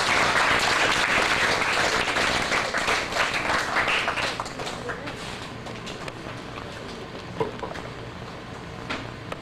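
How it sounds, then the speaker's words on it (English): A hall full of parents and teachers at a Grade 6 school parenting event breaks into loud applause, which thins out and fades to scattered claps over several seconds. "Please give a round of applause to Mrs. Cristina Horatio."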